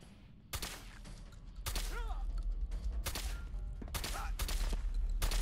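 Gunfire in the game Fallout 4: sharp, loud shots in an uneven volley, with brief faint voices between the bursts.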